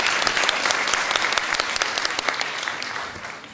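An audience at a Miss Ziemi Michałowskiej 2014 beauty pageant applauds as the jury is introduced, a dense, steady wash of many hands clapping that tapers slightly toward the end.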